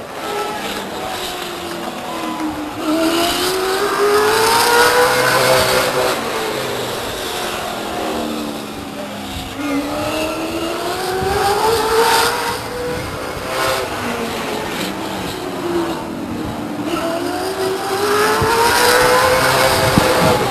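Late Model Stock race cars lap Stockton 99 Speedway, engines swelling and fading in repeated passes as they circle the oval, loud and continuous with overlapping roars.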